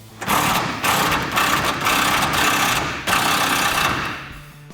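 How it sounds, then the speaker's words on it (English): A ratchet with a 21mm socket works an exhaust hanger bolt on an F-150, loud close rapid clicking in several sustained bursts separated by brief pauses, with no speech. "you're gonna wanna put a little bit of pressure on this ratchet so that bolt pops out this side"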